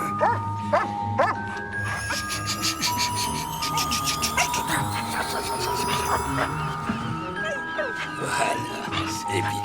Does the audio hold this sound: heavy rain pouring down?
no